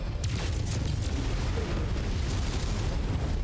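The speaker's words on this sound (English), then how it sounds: "Just got hit by a PPC or something." A weapon hit from a PPC, a particle projection cannon, lands in the mech combat video game Mechwarrior 5: Mercenaries, making a dense, rumbling explosion that stays loud for several seconds, with low booming and a crackling wash on top.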